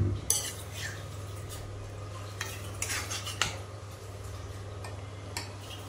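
A spoon stirs boiled chicken with masala spices in a metal pot, making repeated clinks and scrapes over a low steady hum. The stirring is close, moderately loud and irregular.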